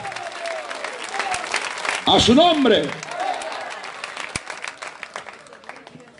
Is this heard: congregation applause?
yes